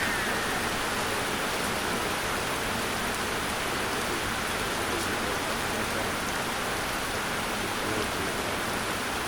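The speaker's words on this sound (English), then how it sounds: "It was raining really hard when we were doing this" Heavy rain drums on a shelter, a loud and dense roar of drops that holds steady throughout with no pauses. No one speaks over it.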